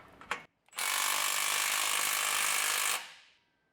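Power ratchet tightening an exhaust clamp on an AFE Vulcan exhaust fitted to a third-generation Toyota Tundra: a few short clicks, then a loud, steady two-second whirring buzz that cuts off and fades.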